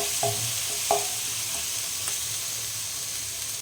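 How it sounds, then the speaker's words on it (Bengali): Spices sizzle steadily in a hot pan for aloo chop, a soft continuous crackle with a couple of light utensil taps near the start. "মশলাটা একটু ভালো করে ভেজে নিতে হবে"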